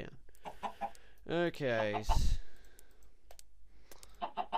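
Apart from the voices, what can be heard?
chicken clucking in video game Minecraft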